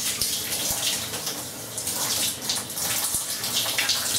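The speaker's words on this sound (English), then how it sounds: "now I'm going to change the temperature of the water to" Tap water runs steadily into a basin during a hair washing and conditioning routine, a continuous close splashing hiss with a few soft knocks, no talking.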